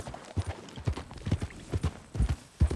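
Rhythmic clip-clop of horse hooves walking at a steady pace in Red Dead Redemption 2, close and distinct, with faint background ambience.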